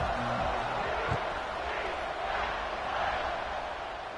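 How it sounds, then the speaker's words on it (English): Stadium crowd buzzing at a college football game, Texas A&M vs UCF, just after a score; a steady, dense roar of many voices fills the space throughout, with a brief thump early on. "this crowd is buzzing after that last score"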